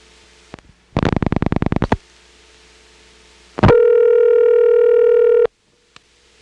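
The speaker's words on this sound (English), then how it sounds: "after I dial it, you'll notice there is a very definite pause. and then it starts to ring in Powers Ferry." A 1977 telephone line on an ESS exchange carries a quick burst of pulse-dial clicks, a definite silent pause, a sharp switching click, then a steady ringback tone for nearly two seconds before cutting off.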